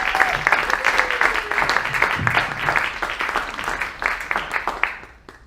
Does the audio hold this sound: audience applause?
yes